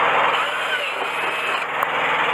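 A high-pitched power drill with a 3/8 bit whines steadily at close range, drilling through carpet-like mud flap trim, its motor holding a constant pitch with a brief click near the end.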